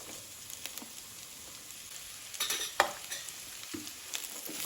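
Field beans frying with onion in a pan, a soft close sizzle broken by a few louder stirring scrapes and clinks of a utensil, quiet overall with no talk.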